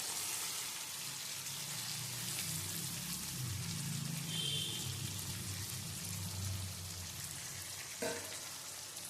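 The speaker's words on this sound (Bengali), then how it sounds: "দিয়ে এটাকে ভালো করে একটুখানি কষাবো যতক্ষণ না এই আদা বাটা, টমেটো, কাঁচা লঙ্কা বাটা থেকে তেলটা ছাড়ছে।" Ginger paste, tomato and green chili paste fry in oil while paneer kosa is being made, a quiet, steady crackling sizzle like light rain with a brief clink near the end and no talking.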